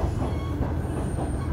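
Trains in the railway yard at Odate Station in Akita, Japan, a JR Freight terminal, rumble steadily close by with clattering wheels and a thin squeal of wheels on rails, with no voices.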